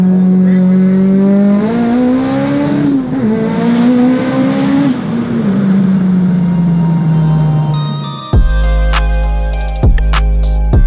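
An 808-horsepower Mitsubishi Evo VIII running 47 psi of boost drones loudly on the street, its engine note rising and falling, then rolling anti-lag kicks in with a rapid series of sharp, close pops and crackles.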